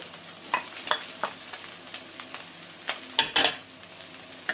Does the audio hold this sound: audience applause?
no